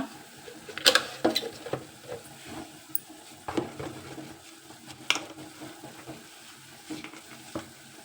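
Dill greens cook with salt, turmeric and spice powder in a pan, giving soft sizzling under scattered scraping and clinking as a utensil stirs the mix, sometimes louder and sometimes quieter.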